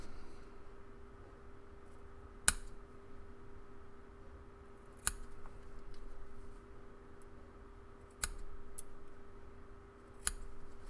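Scissors trim excess cotton wick on a Geek Vape Griffin RTA atomizer: four crisp, quiet snips spaced a few seconds apart over a faint background hiss.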